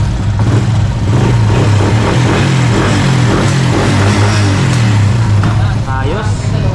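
A Honda Wave 100 motorcycle engine runs loud and close, its pitch rising and falling through several revs, with someone talking over it.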